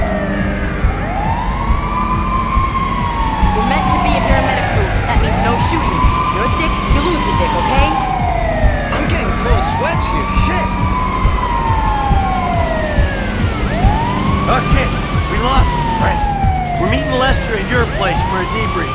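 An ambulance siren in the video game GTA V wails loudly and continuously in repeating rising and falling sweeps, with a rumble of traffic underneath.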